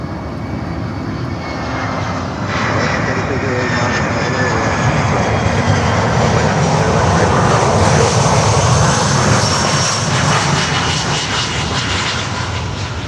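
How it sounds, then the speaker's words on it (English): Jet aircraft, a Boeing 737-400, approaching Miami airport, roars loudly and steadily throughout, swelling slightly as it nears with no talk. "There's an unknown 737-400 approaching."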